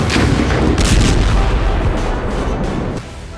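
Bombs exploding in Gaza during Israeli airstrikes just after a ceasefire ended. Heavy, loud, rumbling blasts roll into a dense, continuous roar of booms and crackle that fades slightly near the end, with no voices.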